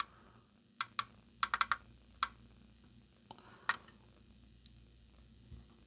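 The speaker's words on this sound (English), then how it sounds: "Oh yeah, you gotta click the bind button, I believe." A few sharp plastic clicks from the bind button on an FMS FCX24M Tacoma RC truck, coming as an irregular cluster of close, crisp taps with short gaps over a quiet background.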